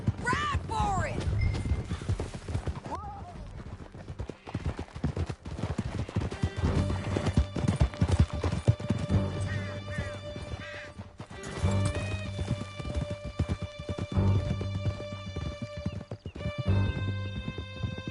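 Several horses gallop in Red Dead Redemption 2, a steady, close run of clip-clop hoofbeats with occasional neighs and whinnies breaking through.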